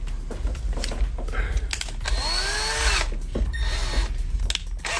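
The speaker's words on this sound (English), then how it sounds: "use your drill and then just twist the ends together" A power drill twisting wire ends together whirs in several short bursts, rising to one longer sustained spin in the middle, close and fairly loud.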